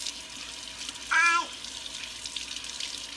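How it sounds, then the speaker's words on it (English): Running water from a sink tap as a child washes her hands, a short burst of splashing flow lasting under half a second amid quiet room tone. "she's gonna be washing her hands so she can help out"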